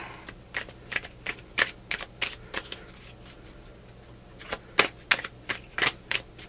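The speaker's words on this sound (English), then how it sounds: "I am not the greatest shuffler" Tarot cards being shuffled in quick bursts of riffling and flicking, with a pause between two rounds, close and clear, no talking.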